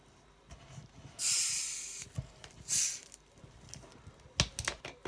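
A bottle of raspberry Coke Zero is opened in two bursts of hissing fizz, a longer release followed by a shorter one, with light handling clicks and taps around them and no talking.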